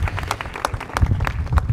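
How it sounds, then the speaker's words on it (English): Audience applause at a talk on stopping human trafficking in California: steady, moderately close clapping from a crowd, brief and unbroken, with no voices over it. "And a round of applause for Autumn."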